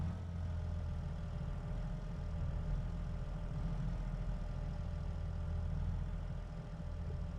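Large tractor engine idles in a farming video game, a steady low droning hum with faint tonal whine that holds even and continuous throughout, with no talking.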